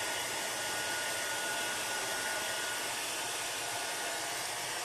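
Hair dryer blower running continuously at close range, a steady loud whooshing hiss that holds unchanged throughout with no voices.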